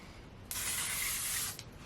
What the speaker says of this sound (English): I'm also going to take my L'Oreal Infallible spray and just